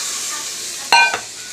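Chicken kosha sizzles steadily in a frying pan with little oil, then water is poured in, setting off a sudden louder hissing burst that quickly settles back into the frying.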